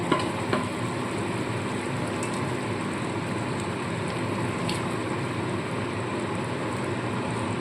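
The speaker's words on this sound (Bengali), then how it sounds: "ঝোলটা কিন্তু ফুটে উঠেছে" Filled pointed gourds (potol) simmering in a bubbling vegetarian gravy in a pan, giving a steady soft sizzle and bubbling throughout with a couple of faint clinks near the start.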